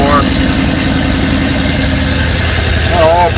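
Engine idling steadily on its first start after a cylinder head install, a loud, continuous low rumble running the whole time while someone talks over it.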